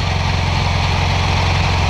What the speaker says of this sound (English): Not that you haven't heard a million different Volkswagen engines, but this is how mine sounds.